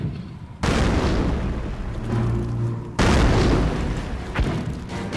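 Heavy mortar shell explosions in a Company of Heroes World War II battle at Carentan, Normandy: two loud booming blasts about two seconds apart, each with a long rumbling decay, over a low steady battlefield din.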